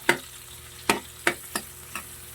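Onions for tortang ampalaya sizzle in a pan beneath about five distinct sharp clatters of a utensil against the pan, spaced roughly half a second apart, close and clear with no talking.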